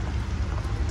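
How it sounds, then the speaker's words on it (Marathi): Steady rain falls in Goa in a dense, continuous hiss, with a low rumble underneath and no voices. "पाऊस आलाय."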